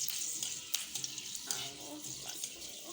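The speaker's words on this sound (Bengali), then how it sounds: "কারি পাতাগুলো ভাজা হয়ে গেছে।" Curry leaves frying in hot oil in a pan where peanuts in their skins were also fried, a soft, fairly faint crackling sizzle with scattered sharp pops and bursts.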